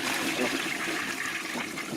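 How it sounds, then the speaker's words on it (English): A toilet flushes nearby with a steady rushing swirl of water that holds at an even level for about two seconds, heard alone without any voices over it. "Oh, the flushing noise."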